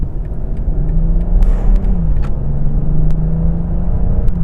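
A BMW 840i xDrive with a turbocharged B58 inline-six pulls hard under acceleration, a loud, steady low engine drone rising slightly in pitch, with a few brief clicks over the top and no talking.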